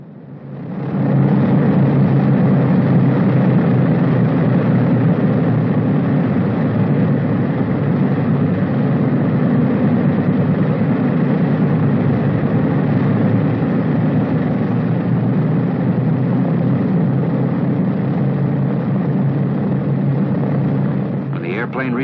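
Four piston engines of a B-29 bomber drone steadily while taxiing, a loud low continuous roar holding constant throughout with no voices.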